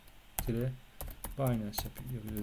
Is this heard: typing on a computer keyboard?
yes